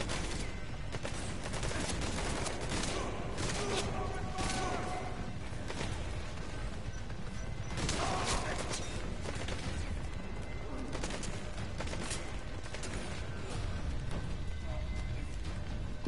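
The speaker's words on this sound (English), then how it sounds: "Who's shooting? Who's shooting?" Bursts of gunfire ring out in the video game Metal Gear Solid V, rapid volleys and single shots repeating over a dense, steady backdrop of game noise.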